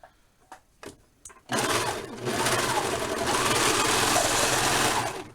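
A serger sewing machine trims and stitches fabric for a Barbie doll dress. A few short taps come first, then the motor kicks in with a loud, fast, steady whirring hum that runs without a break.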